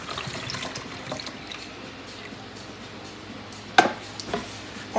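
A can of evaporated milk poured into a flan mixture: a soft, quiet liquid pour running under a light background, with a sharp clink of the can and bowl near the end.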